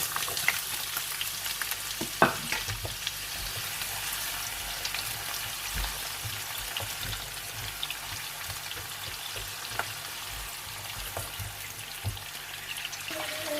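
Onion fries in hot oil alongside fish and fenugreek seeds for a fish karahi, a constant loud sizzle with occasional stirring clinks and pops throughout.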